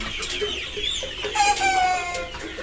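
Many Australian breeder hens, kept for laying eggs, cluck and chatter together in a busy, close chorus, with overlapping calls and no talking.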